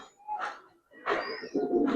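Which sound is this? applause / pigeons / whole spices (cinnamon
pigeons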